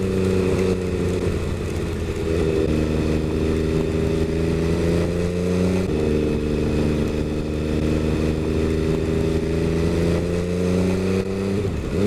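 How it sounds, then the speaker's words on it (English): An MV Agusta F3 800 motorcycle ridden in cold, wet, near-snowy weather: a loud, steady engine drone that climbs in pitch, drops sharply with a gear change midway, then climbs again and shifts near the end. "So now I'm riding a bike I'm not used to riding in the wet,"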